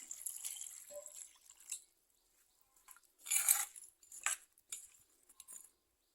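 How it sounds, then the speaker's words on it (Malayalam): Quiet bursts of water being poured and splashing into a pot of taro with salt and curry leaves, in short intermittent pours separated by near silence and a few drips. "നമുക്ക് കുറച്ച് വെള്ളം ഒഴിച്ചു കൊടുക്കാം"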